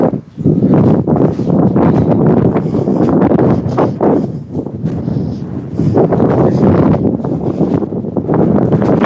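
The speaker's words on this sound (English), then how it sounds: "How's that wind sound, guys? It's very, very windy here today." Strong wind buffets the microphone in loud, continuous rumbling gusts that swell and dip throughout at an outdoor city protest, drowning out other sounds.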